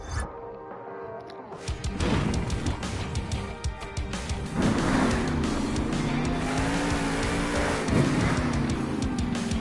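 The Max D monster truck roaring around the arena at a Monster Jam show in Salt Lake City, a loud, sustained engine howl with revving swells and tire noise, close and continuous after a brief quieter start.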